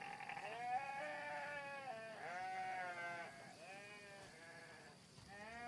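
Goats bleat repeatedly in a goat pen, a series of wavering, nasal cries, some overlapping, at moderate distance with no talk.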